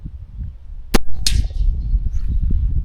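An air rifle, the Brazilian RTX, fires a Thunder heavy pellet outdoors: one sharp, loud crack followed a moment later by a second snappy report, with quiet wind and room noise around it.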